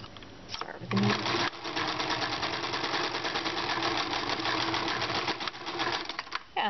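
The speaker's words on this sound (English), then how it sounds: "I'm going to turn my sewing machine on." A sewing machine stitches a seam on a raglan shirt, a fast continuous mechanical whir that runs close and steady after a brief start, with a voice speaking over it.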